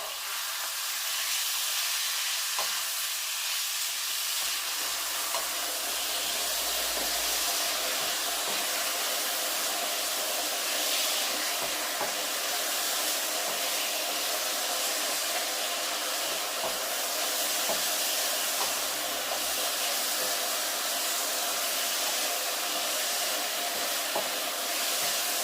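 Electric kettle heating up while oil sizzles in a pan on the stove during chicken curry cooking, a steady, loud hiss and rushing roar that holds unbroken throughout.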